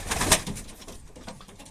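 Pigeons coo softly at close range in a loft, a short run of low, throaty calls lasting under two seconds with no other sounds around them.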